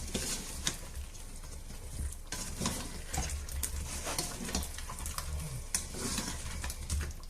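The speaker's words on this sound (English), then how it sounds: "I'm going to sprinkle a bit of salt and give them a nice mix over so that they soak in the delicious sauce." Pork and fried potatoes are tossed in sauce in a pan, making a busy, wet sizzle with soft scraping and clattering stirs that run continuously up close, with no one speaking.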